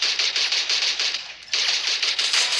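Rapid automatic gunfire in the Free Fire video game, dense rattling bursts that pause briefly around the middle and then resume, loud and close with no talking.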